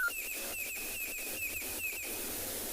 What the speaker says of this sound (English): There is a bird behind us called a red-crested quahan.